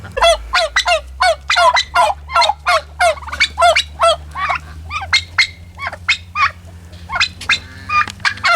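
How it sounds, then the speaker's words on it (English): A flock of heritage breed turkeys gobbles in rapid, rhythmic bursts, loud and close, over a low steady hum. "I've still got my heritage breed turkeys, and they're still noisy"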